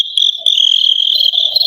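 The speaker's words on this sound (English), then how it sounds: "I now have a cricket sound effect that I can play for those moments of silence." Cricket sound effect played during an online COVID-19 recovery meeting: a steady high-pitched chirping trill, close and fairly loud, running unbroken with no talk over it.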